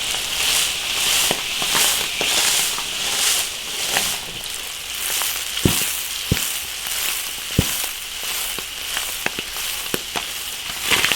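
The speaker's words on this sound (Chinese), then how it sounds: "把那个鱼啊煎到两面都金黄" Wild fish pan-frying in an iron wok until golden on both sides, giving a steady crackling sizzle broken by sharp pops and spits throughout, with no talking.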